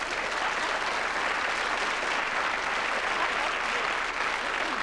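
A studio audience at the 1990 A Song for Europe televised contest applauds steadily, a dense, continuous wash of clapping heard at moderate distance for the whole stretch.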